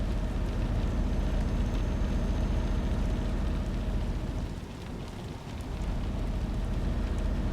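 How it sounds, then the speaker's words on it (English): Steady rain in the Euro Truck Simulator 2 driving game, a dense, even hiss of drops on the truck that softens briefly midway and then returns, with no talking. "That's a nice rain sound, I like that."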